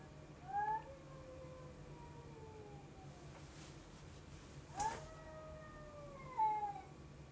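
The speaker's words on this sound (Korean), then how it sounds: "고양이 소리인 것 같은데" A cat meows outside an open window at night, three drawn-out wavering cries spaced a couple of seconds apart, moderately distant over a quiet room hum.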